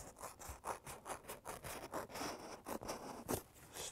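Regalia material being cut out by hand, a steady run of rhythmic rasping strokes, close and fairly quiet, with no talk.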